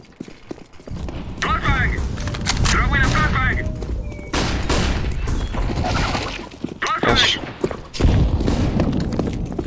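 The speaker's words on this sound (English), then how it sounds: "Throwing flashbang." A flashbang grenade thrown in Counter-Strike on the Inferno map, heard as loud bursts of gunfire and sharp impacts in a busy firefight, with players talking over the action.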